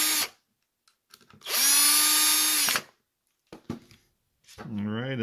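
A small screwdriver turns screws to tighten a clear holster for a Taurus G3C pistol, giving short bursts of ratcheting, scraping clicks close up with pauses between them.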